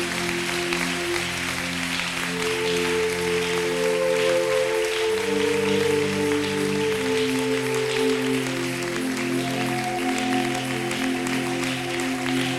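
A church congregation applauds steadily and loudly throughout, dense clapping blending with sustained music-like tones underneath, with no speech.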